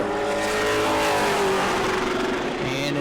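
Pro Late Model race car coming off turn four during qualifying at New Smyrna, engine roaring steadily and loudly with harmonic whine as it accelerates past, no voices heard.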